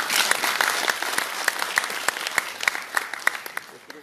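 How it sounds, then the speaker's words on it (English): Audience applause at an oil and gas forum in Miri, a steady wash of clapping from a crowd indoors with sharper individual claps popping out, continuing throughout and slowly thinning. "Please give them a round of applause."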